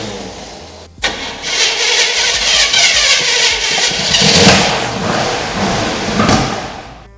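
A Chevrolet Caprice Classic barn-find engine cranks on starting fluid, a loud, steady churning roar that catches after a brief pause and runs rough for several seconds, with no talk over it.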